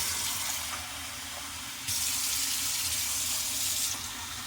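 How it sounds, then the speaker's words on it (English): Hot water runs steadily from a kitchen tap into a sink while bread is being made, a continuous close hiss that swells louder partway through as the flow increases, with no one speaking. "Why does Mez have hot water running?"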